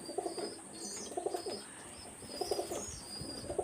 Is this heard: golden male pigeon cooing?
yes